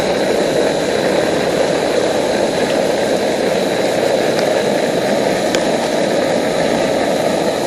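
A Soto butane camping stove roars steadily at a campground, its loud, even burner hiss mixed with the churn of water at a rolling boil, with no talk.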